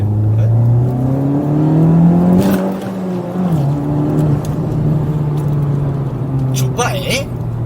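Honda Civic Type R engine accelerating with a steady droning pitch, its turbo whooshing as it draws air, loud and close, with someone talking over it.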